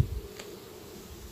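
Drone honeybees buzz steadily and close by at a hive, a low, continuous droning hum with no voices.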